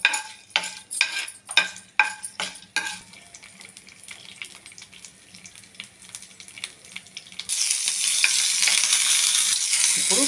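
Dried chillies, curry leaves and lentils are tempered in hot oil for an okra and peanut dish, opening with rhythmic clattering stirs before settling into soft sizzling that swells to a loud, steady hiss.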